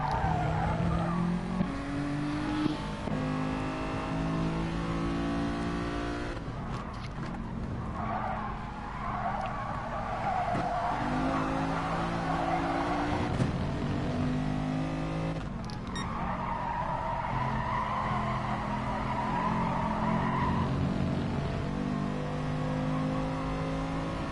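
Race car tires slide and squeal in a racing video game while the engine revs and shifts, sustained and loud throughout, with a car sliding on a corner exit and no voices.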